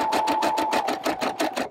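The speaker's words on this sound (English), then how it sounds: "We're on to the last step here of just the actual like satin stitch around it." An embroidery sewing machine runs a satin stitch, its needle hammering in a fast, even rhythm of close, loud mechanical pulses with a faint steady motor whine underneath.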